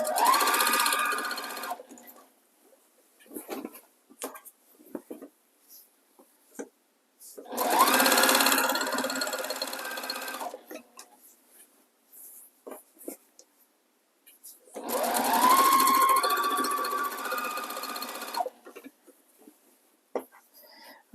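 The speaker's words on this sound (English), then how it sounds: "And then just start stitching a 1/4 inch seam again." A sewing machine stitches a quarter-inch seam on quilt binding in three separate whirring runs of a few seconds each, close and steady, with quiet fabric handling and small clicks in between.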